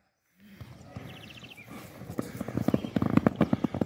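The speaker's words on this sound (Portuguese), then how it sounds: "Volta no trote, passada longa." A horse trotting with long strides during a finishing, endurance and speed training session, hoofbeats building from soft to loud, close and rhythmic clip-clop, with a brief whinny early on.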